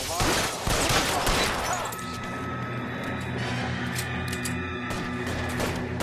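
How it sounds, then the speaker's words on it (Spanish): Dense gunfire shootout in the L.A. Noire video game, a loud burst of overlapping shots at the start settling into a sustained, busy crackle of combat with steady background din, voices faintly mixed in. "Esto es un tiroteo en toda regla."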